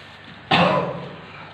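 A single hard cough bursts out close by, sharp at first and then trailing off briefly against a quiet room.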